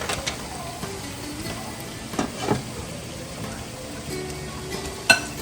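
Shrimp frying in a pan for seafood pasta give a steady, soft sizzle with occasional light clinks and stirring noises, close and moderately quiet throughout.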